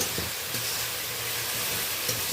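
Spice paste frying in a pan while being stirred with a spatula, a dense continuous sizzle with a few soft scrapes, close and steady, no voices.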